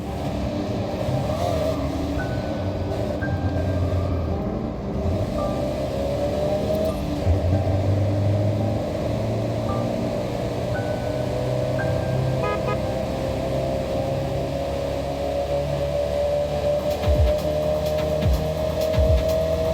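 Convoy of Mitsubishi Montero 4x4s driving in Forza Horizon 6, a steady engine drone throughout with occasional horn-like toots and shifting gears, continuous and moderately loud with no talk.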